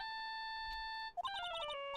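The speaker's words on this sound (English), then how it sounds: "All of a sudden, the phone began to ring." A mobile phone ringtone plays in a courtroom mystery game, a steady electronic tone that switches into a quick bright melodic jingle partway through.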